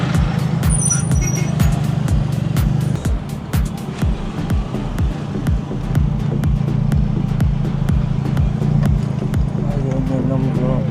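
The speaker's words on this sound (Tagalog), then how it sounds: "Kasi medyo traffic eh." Road traffic with cars, trucks and buses rumbles steadily close by, with a repeated clattering, clip-clop-like rhythm and a loud engine drone throughout.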